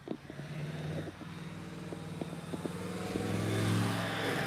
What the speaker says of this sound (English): It's a UPS truck, diesel, loud